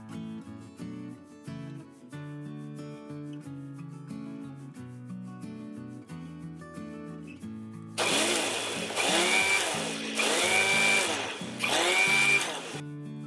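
Kitchen mixer grinder blitzing a chili powder mixture into paste, three loud whirring bursts in the latter part with short pauses between them, heard over steady background music.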